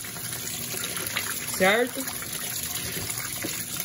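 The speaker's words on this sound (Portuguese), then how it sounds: "E aqui com ele ligado, ó, ele tá jogando água em cima das roupas." An Electrolux LT12F Turbo washing machine's Perfect Wash feature sprays water onto clothes in a steady close hiss, while a person speaks briefly over it.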